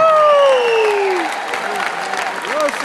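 Concert audience applauding for the band, a dense steady wash of clapping that holds loud, with a voice speaking over it.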